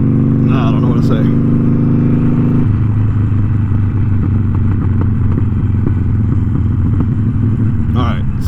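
Harley-Davidson Iron 1200 motorcycle ridden through city streets, a loud, steady engine rumble with a shift in pitch partway through and wind buffeting, with someone talking over it.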